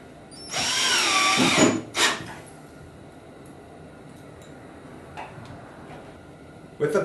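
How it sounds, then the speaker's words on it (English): A power drill drives pocket screws into a kitchen cabinet in one short, loud whirring burst, followed by a brief second spin, then faint handling clicks in a quiet workshop. "So all I'm going to do is simply screw in using pocket screws."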